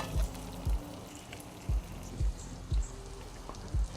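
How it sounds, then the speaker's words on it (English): Eggs frying in butter in a pan while melted butter is spooned over the tops, giving a steady close sizzle broken by soft, regular dull taps about every half second. "Now we're just going to use this butter as to base the top of the egg."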